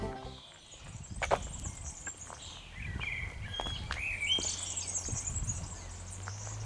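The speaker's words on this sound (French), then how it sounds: "Tous ces petits oiseaux" Small birds chirp and trill in bursts over an outdoor woodland path, with soft footsteps and rustling close by and a faint steady hum underneath.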